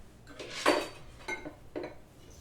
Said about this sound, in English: Scrape down the sides.